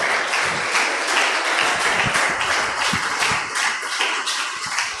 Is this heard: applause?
yes